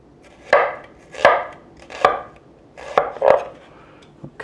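Knife chopping vegetables on a cutting board in a home kitchen, five or six distinct close thunks at an even, unhurried pace.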